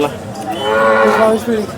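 A dairy cow at the Sangola cattle market gives one long, loud, close moo that swells and then trails off, standing out clearly over the market background.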